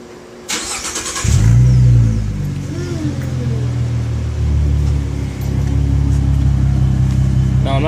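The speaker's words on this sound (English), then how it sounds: "Go ahead and start it up for you and let you hear it" A 2017 Ford Mustang V6 with an aftermarket exhaust cranks and fires up, then settles into a loud, steady deep idle with a brief blip partway through, close by and with no talking over it.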